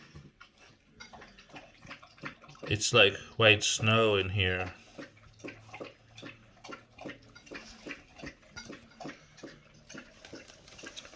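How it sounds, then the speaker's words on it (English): Belle, a dog, laps water in quick repetitive slurps in the background while a person talks over it nearby. "That noise in the background is my dog Belle. She's drinking some water."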